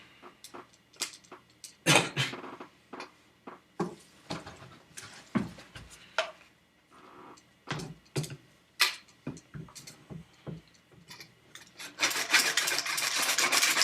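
A custom BB gun part clamped in a vise is cut with a hand tool in a series of rough, rhythmic rasping strokes, close and uneven, ending in a denser, continuous grinding stretch.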